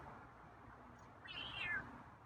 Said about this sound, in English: got a few meows there